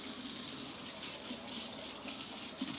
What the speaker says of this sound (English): just got to rinse off my hands one more time